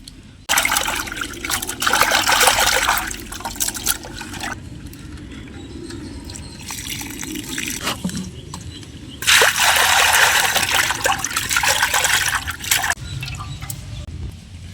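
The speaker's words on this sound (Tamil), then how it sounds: "நார்மல் வாட்டரில் ஒரு 2 டைம் வாஷ் பண்ணி எடுத்துக்கலாம்" Dry fish gets washed by hand in a vessel of water, with loud splashing and sloshing bursts, quieter trickling and swishing between them, close up.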